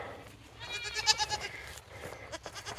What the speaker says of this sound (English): Got some baby goats bombing our videos here.